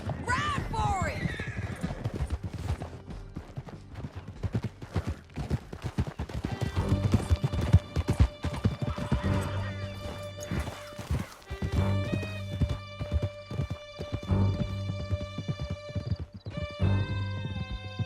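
Horses gallop hard through a canyon in the video game Red Dead Redemption 2, with rapid, continuous hoofbeats and whinnies mixed with game music and shouting voices throughout.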